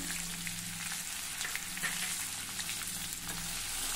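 Curry leaves crackling in hot oil for a tempering over ragi dhokla, a constant close sizzle with faint pops and a low background hum, no voices.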